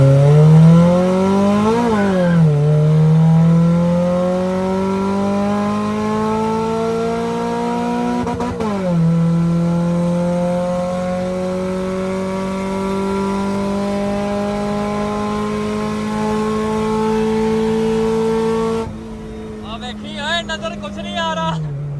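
A car accelerates hard along a main road at night. The engine is loud and close, its pitch climbing through two quick gear changes before holding a high, sustained drone, then it drops off sharply near the end.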